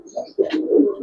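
A Giribaz pigeon gives a short, close, throaty coo, a soft warbling murmur broken by a brief gap before a longer rolling phrase, loud and near with no talking.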